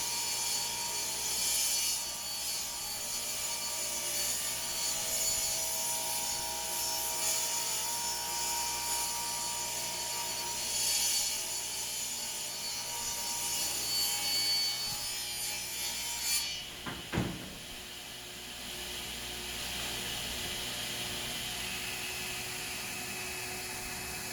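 A table saw grinds steadily through wood for a long stretch, then cuts off abruptly with a thump, leaving a quieter hum behind.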